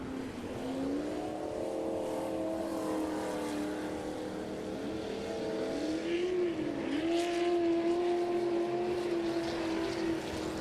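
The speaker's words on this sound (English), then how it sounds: "Dale Chestnut coming around, completing lap number 2" Off-road race trucks at a TORC Sportsman race at Crandon, engines droning steadily at a distance, with one rising and falling in pitch as it comes around to complete a lap.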